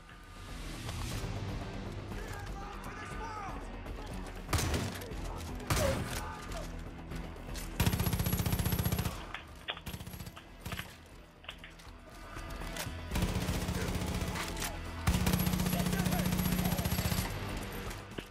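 Gunfire from a weapon in the Far Cry New Dawn video game, bursts of shots with mechanical clatter coming in several loud stretches amid game noise, while someone talks and swears in Portuguese between them.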